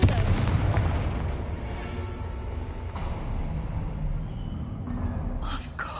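A Confringo spell explodes in Hogwarts Legacy with a deep booming blast, followed by a rumbling tail and a few sharper pops near the end.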